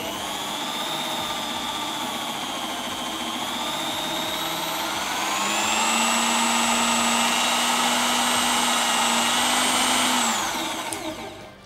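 A steady, loud whirring electric drill motor runs continuously, its pitch climbing partway through before winding down at the end. No voices.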